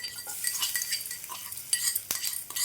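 Garlic and spices stirred in hot oil for a tamarind chutney, with a utensil scraping and clinking against the pan in brief repeated strokes over a soft, steady frying hiss, close and moderately quiet.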